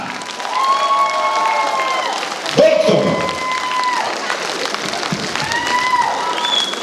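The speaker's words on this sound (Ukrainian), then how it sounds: "Ваші оплески!" Audience applause at a concert in Truskavets, sustained loud clapping from a large crowd with a voice and a sung note over it.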